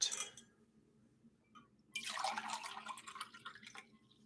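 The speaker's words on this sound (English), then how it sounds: "Water." Water drips and trickles with a glassy, liquid tone, starting faint and then swelling into a louder, continuous splashing run over a low steady hum, with no talk.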